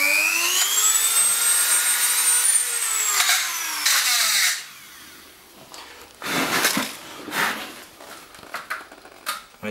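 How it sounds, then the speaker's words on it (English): A power drill whines as it bores pilot holes into wood while a Kino Flo style light fixture is built, rising and falling in pitch for about four seconds, then short irregular bursts of drilling and handling noise follow nearby. "we're just going to stick some pilot holes in just to clear a little bit of that wood away"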